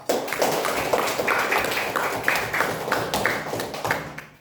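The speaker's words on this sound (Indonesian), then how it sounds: "Tepuk tangan dulu Pak Eva." Children in a classroom clap their hands in a lesson on the Prophet Muhammad's migration to Medina, bright rhythmic claps in quick bursts, fairly close and fading out at the end.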